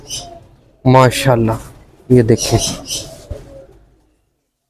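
Ferozpuri pigeons, including a young male, coo in low, throaty bursts close by, two distinct rolling calls separated by a pause, with someone speaking over them.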